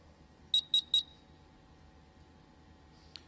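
A quiz buzzer at a live senior-category grand finale gives three quick, evenly spaced bright electronic beeps, fairly loud over a low hall hum, then a single faint click near the end.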